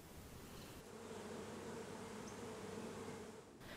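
Honeybees buzz around beehives set up in a field, a steady low drone of many insects, faint and continuous with no voices.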